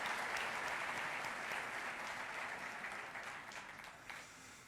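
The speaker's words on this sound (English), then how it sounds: "Give them a good round of applause." At an awards ceremony for a tidy towns competition, an audience gives a round of applause. The clapping is fairly quiet and distant and slowly fades toward the end.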